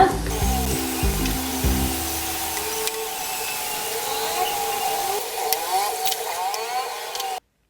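Chicken samosas deep-frying in hot oil, a steady bubbling sizzle that runs the whole time. A tonal hum sits on top at the start, and the sound cuts off abruptly at the end.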